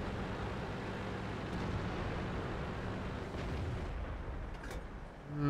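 Tank gun firing in the World of Tanks video game (FV4202), a heavy sustained rumbling boom that fills the low end and fades as another low thud follows near the end.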